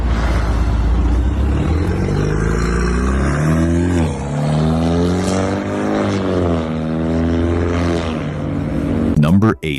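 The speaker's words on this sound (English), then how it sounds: "Number 8, 2019 to 2025, BMW G29 Z4." A 2019–2025 BMW G29 Z4 roadster engine revving loudly and close, its pitch sweeping up and down through several throttle blips before cutting off abruptly, with no one talking over it.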